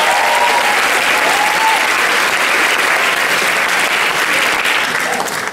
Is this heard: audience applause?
yes